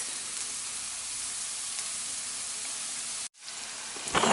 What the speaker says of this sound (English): So we're gonna let this saute here and soften up for about 3 minutes.